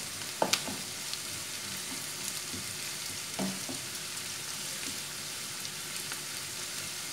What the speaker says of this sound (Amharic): ያው በምታው መልኩ ነጭ ሽንኩርቱንም ሽንኩርቱ ጋር አብሬ እጠብሰዋለሁ ማለት ነው።